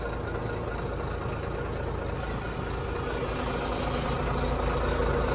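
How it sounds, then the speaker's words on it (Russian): Car engine idling after being started on a roadside, a steady low rumble running evenly throughout, close and moderately loud with no talk. "Так, завелась машина"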